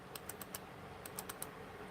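A computer mouse or keyboard clicking indoors in an RV, in two quick bursts of four sharp, close clicks separated by a pause, over a faint steady room hum.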